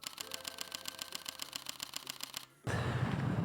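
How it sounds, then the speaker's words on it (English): A Panasonic Lumix S1RII camera shutter fires in a rapid burst of evenly spaced clicks, close and crisp, followed by a short pause and a louder mechanical whir. "if you are interested how the shutter speed is and especially how it sounds, it's like this"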